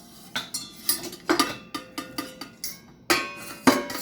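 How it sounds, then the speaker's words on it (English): Vintage Revere Ware metal pots being flipped over, giving a series of clanking, ringing knocks of metal on metal and countertop, close and fairly loud, irregular in rhythm with no voices. "Let's flip these pots over."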